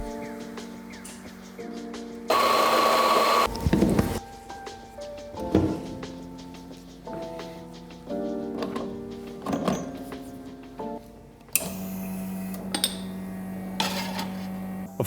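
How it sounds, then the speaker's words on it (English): An espresso machine makes a shot with a sustained pump whir, followed by clinks, knocks and handling clatter of cup and portafilter, then a loud steady hum near the end, all close and without talk. "So I'll make an espresso for now."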